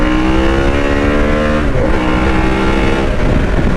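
A Harley-Davidson Sportster S 1250cc motorcycle engine drones loudly and steadily while riding, a close, continuous throbbing roar with slight pitch shifts as it pulls.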